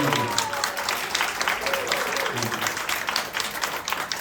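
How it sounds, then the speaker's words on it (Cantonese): An audience at a Nu Skin company open day applauds a teacher being introduced: dense, sustained clapping from a seated crowd in a hall, steady and moderately loud throughout, with some talk beneath. "俾掌聲華老師"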